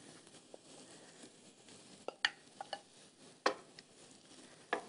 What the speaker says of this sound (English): I'm going to go ahead and add in a little bit more olive oil, and then all of these mushrooms